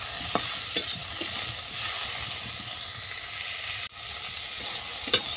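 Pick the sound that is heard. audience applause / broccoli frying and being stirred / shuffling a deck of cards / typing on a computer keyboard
broccoli frying and being stirred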